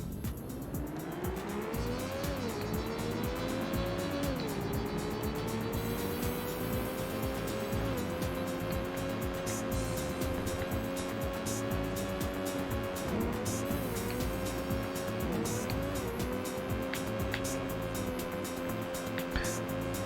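A 1950s Porsche race car engine in Need for Speed: Porsche Unleashed drones loudly and steadily, its pitch climbing through gears with repeated shift dips and brief tire squeal along the way.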